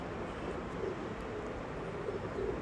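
Sahanpuri tupidar pigeons at a loft coo softly in low repeated murmurs, faint against a steady background hiss, with no talk.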